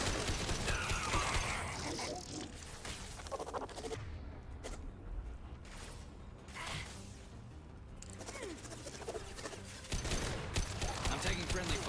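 Rapid mechanical gunfire from Mass Effect 2, with clattering bursts and metallic clicks that run almost continuously at steady loudness, with no talk.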